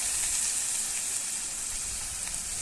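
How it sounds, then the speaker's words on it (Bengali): Potato and eggplant pieces fry in hot oil, a steady, dense sizzling hiss that stays even and fairly close throughout, with no voices. "আলু আর বেগুন হালকাভাবে ভাজা হয়ে যাবে"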